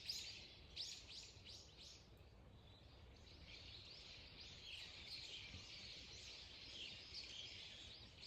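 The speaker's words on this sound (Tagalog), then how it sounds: "Pakinggan niyo yung mga ibon." Birds chirp and sing outdoors, with a busy run of quick repeated calls at the start, then a steady, fairly faint chorus of overlapping twitters continuing throughout over low background rumble.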